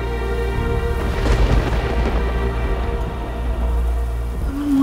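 Heavy rain falls steadily during a storm, a dense continuous hiss with a low rumbling undertone, constant and fairly close throughout.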